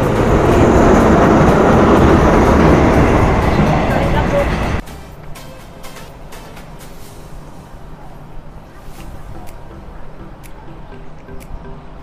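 A train rumbles loudly past in Thailand, a heavy continuous roar of wheels and cars that cuts off abruptly after a few seconds, leaving quieter ambience with faint clicks.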